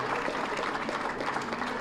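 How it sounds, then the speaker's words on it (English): Brief, steady applause from an election night audience greeting the speaker's son Murphy, a dense wash of clapping without pause. "a round of applause."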